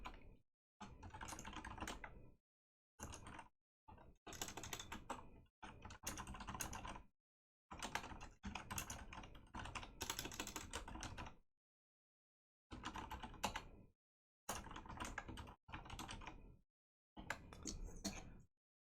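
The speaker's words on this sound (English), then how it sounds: "Did your typing speed increase after converting to an ergonomic keyboard?" Typing on an ergonomic computer keyboard, steady bursts of rapid key clicks broken by short pauses, close but fairly quiet, with no voices.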